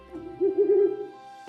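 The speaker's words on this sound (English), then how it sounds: "Let's hear the owl again." An owl hoots in a video game, giving one soft, hollow call that swells and fades over about a second, clear and close with no talking.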